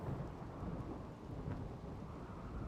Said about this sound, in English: Now, the rain, thunderstorm, the forest weather, that should be going away relatively soon.